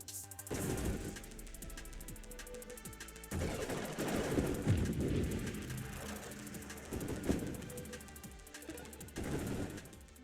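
Burst fire from a Planet Buster weapon in a video game: dense, sustained volleys of rapid shots with heavy rumble, running almost continuously at moderate loudness with no speech.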